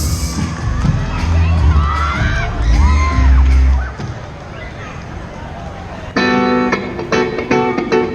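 A festival crowd at an outdoor music festival shouts, whoops and cheers loudly to welcome a band. The roar fades after a few seconds before the band's first instrumental notes cut in.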